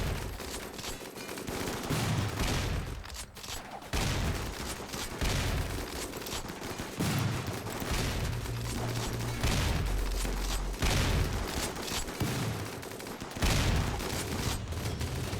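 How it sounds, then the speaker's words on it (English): Dense rifle fire from three guns crackles in overlapping volleys during a Rimworld base defense, near and loud, with bursts continuing almost without pause and occasional low booms underneath. "I think that was the 3 rifles firing in sync."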